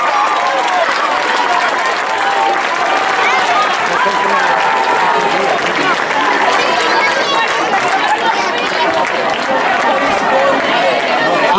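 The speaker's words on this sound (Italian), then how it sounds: "Un applauso, prego," An audience at a Palio delle Contrade award ceremony applauds in a dense, sustained burst of clapping mixed with crowd chatter, loud and steady throughout, while a voice talks over it.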